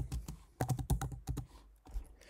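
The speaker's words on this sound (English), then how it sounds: "Now turn your keyboard to Arabic and start writing." Quick, uneven bursts of computer keyboard typing, close and clear, with clustered key clicks separated by short pauses, while Arabic text is entered in Canva.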